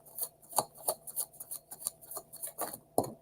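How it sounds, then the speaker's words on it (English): A deck of tarot cards is shuffled by hand in a quick series of crisp riffling and sliding bursts, about a dozen strokes in a steady rhythm, close and clear with no talk. "Okay, one more shuffle."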